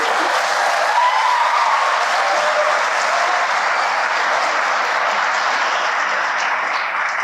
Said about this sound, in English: Please give our panelists an applause.